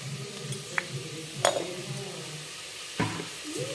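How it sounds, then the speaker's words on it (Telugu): Onions frying with salt in a pan for chana curry, a soft continuous sizzle with a few sharp clinks of a spoon against the pan, no talking. "సాల్ట్ వేసుకొని కొంచెం ఫ్రై చేసుకోవాలి"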